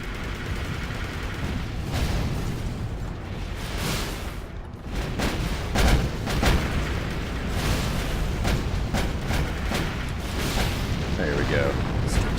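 Missile silos blowing up in Armored Core 4, a dense run of booming blasts and gunfire-like bursts that carries steadily through the whole stretch alongside game sound and occasional voice.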